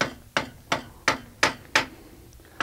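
A blacksmith hammers a head onto a hand-forged nail of hot iron on a historic South Carolina farm: six sharp, ringing strikes in an even rhythm, close and loud, with no voices.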